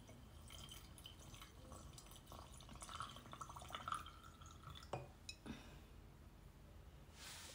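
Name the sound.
water slowly poured into a jar with coins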